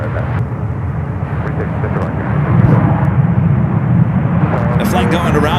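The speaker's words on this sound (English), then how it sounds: "The flight going around was coming in from Boston, flight 2623, a 737 MAX 9" A Boeing 737 MAX 9 airliner going around at San Francisco airport makes a loud, sustained jet roar that swells midway, with someone talking over it.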